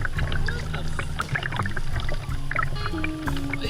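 Kayak paddling with twisted paddles facing opposite directions, the paddler spinning the shaft each stroke: rhythmic splashes and drips from close blades, over steady wind and water noise outdoors.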